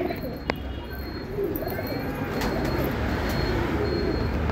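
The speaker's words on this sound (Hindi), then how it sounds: "अच्छे कबूतर है देखिए दोस्तों।" Shiraji pigeons coo softly and steadily at close range, with a brief higher chirp early on and low background traffic rumble throughout.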